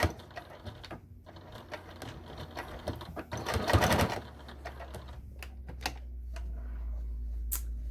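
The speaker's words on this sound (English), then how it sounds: "I'm gonna start sewing. And I'm going to sew at 1/4 of an inch." A sewing machine stitches a slipper seam at a quarter-inch allowance, a steady close mechanical rattle that swells into a louder run midway, then eases off into lighter stitching and a low hum.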